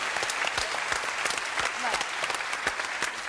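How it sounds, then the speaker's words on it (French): A television studio audience applauds on a French variety show, sustained dense clapping throughout with a host's voice speaking over it. "Applaudissements pour Delphine parce que c'est très joli"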